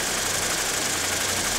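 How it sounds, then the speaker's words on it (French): Two electric motors on either side of the cabin of a flying saucer craft at the Coupe Icare event hum and whir in a loud, steady roar with no pauses. There is a low droning undertone. "On se déplace avec deux moteurs électriques qui sont de part et d'autre de la cabine"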